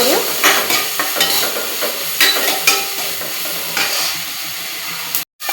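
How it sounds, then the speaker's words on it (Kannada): Onions and tomatoes frying in a pan, a loud continuous sizzle with repeated scraping strokes of a stirring spoon, ending in a brief moment of silence. "ಟೊಮೆಟೊ ಎಲ್ಲ ಚೆಂದಂಗೆ ಕರಿಬೇಕ್ರಿ. ಅವ ಟೊಮೆಟೊ ಚೆಂದಂಗೆ ಕರ್ಕೊಳ್ಳಿ."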